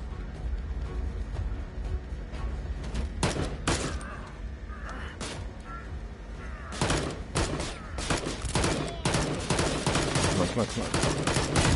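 Gunfire in the VR game Immortal Legacy: The Jade Cipher, with sharp irregular shots cracking in bursts, some close and loud, others fainter, over a background rumble, and someone briefly speaking.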